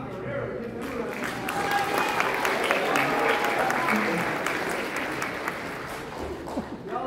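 Audience applause at an outdoor jazz festival after a big band set, a steady, sustained wash of many hands clapping at moderate distance, with some cheering and voices mixed in, swelling slightly then easing.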